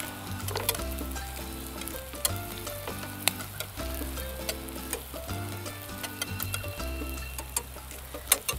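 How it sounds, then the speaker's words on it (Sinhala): Beaten eggs scrambled into fried corn sizzle steadily in a hot pan, a continuous close crackle with light scraping stirs, while soft music plays underneath and nobody speaks. "ෆ්‍රයි වෙච්ච අපේ corn එකට අපි කඩාගත්ත බිත්තර ටික එකතු කරලා අපි මේ විදිහට ස්ක්‍රැම්බල් කරගන්න ඕනේ"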